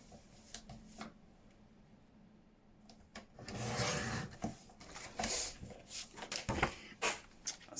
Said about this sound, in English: so I'm going to trim that so it's the same. So let me just just trim that.